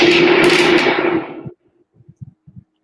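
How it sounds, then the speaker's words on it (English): A handheld thunder drum, shaken in a demonstration of Argentine percussion, gives a loud rumbling, roaring wash that swells and slowly fades, then a few soft low thumps trail off. "this is called a thunder drum."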